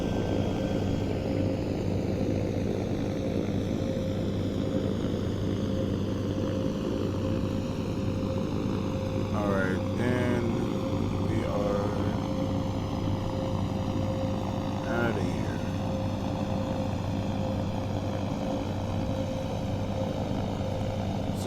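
Steady propeller drone and airflow inside an Eviation Alice electric aircraft climbing after takeoff, a constant loud cabin hum with faint brief radio-like voice fragments in the middle.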